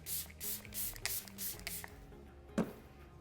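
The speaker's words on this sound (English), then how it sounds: "I'm just going to spray this all over my face." Several quick, hissing spritzes of makeup setting spray from a spray bottle onto a face in a short rhythmic burst, close up, followed by a soft tap.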